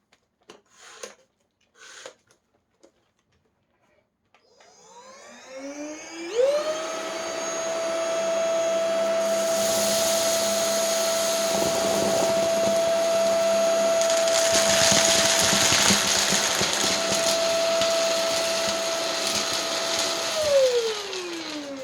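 A PRETTYCARE W100 budget cordless stick vacuum spins up on its high setting after a few soft clicks and handling knocks, then roars steadily at close range for about fifteen seconds before winding down.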